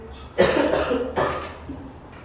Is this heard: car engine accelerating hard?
no